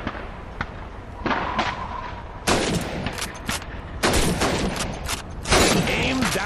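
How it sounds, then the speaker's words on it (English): Rifle shots at bottles and plates on a shooting range in the video game Call of Duty 2, a handful of sharp, loud cracks spaced a second or so apart, each followed by a brief ringing tail. "Shoot those bottles and plates."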